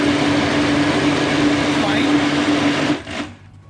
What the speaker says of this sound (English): the banana puree blended in the mixer